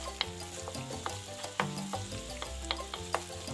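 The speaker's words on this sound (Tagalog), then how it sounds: "Paggigisa pa lang, nakakatakam na." Onion sautéing in a hot pan to start a Filipino chicken curry, a soft continuous sizzle with sharp clicks and scrapes of a utensil stirring, close by and fairly quiet.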